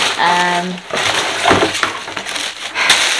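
Packaging is pulled off an item from a box, with close crinkling, crunching and rustling in irregular bursts. A short bit of speech comes at the start.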